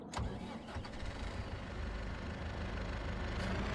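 Truck engine in Farming Simulator 25 cranking to life and settling into a steady, mid-pitched idle rumble that holds close and even throughout, with no voices over it.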